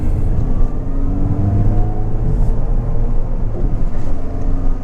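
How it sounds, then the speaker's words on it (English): A 2006 Mini Cooper S John Cooper Works R53 driving with a deep, throaty exhaust rumble and uneven burbling under a steady engine drone, heard close and loud from inside or near the car. "these pop and burble as well, except the newer ones only do that in sport mode."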